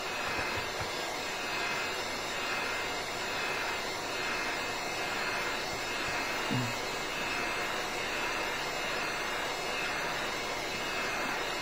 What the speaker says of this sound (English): I take the heat gun and then blast it on